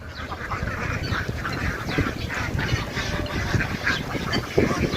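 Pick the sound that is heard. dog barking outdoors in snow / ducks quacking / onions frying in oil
ducks quacking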